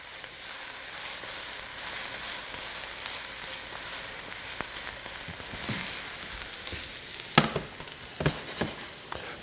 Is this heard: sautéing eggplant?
yes